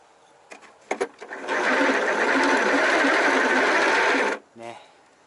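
Steady mechanical whine and whirr from the gearing of a folding catamaran's pedal drive, running loud and continuous for about three seconds after a few clicks and knocks, then stopping abruptly.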